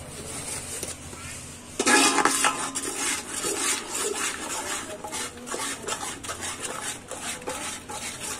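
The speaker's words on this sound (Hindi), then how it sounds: "अब इसको हिलाएंगे अच्छी तरीके से।" Mutton paya curry is stirred in a pot, with a spoon scraping and clattering against the metal close up. It starts quietly, then turns to steady, busy stirring from about two seconds on, with no talking.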